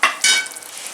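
Noodles go into a hot pan for chicken Hakka noodles and are stir-fried, giving a brief loud sizzle that quickly settles into softer frying hiss.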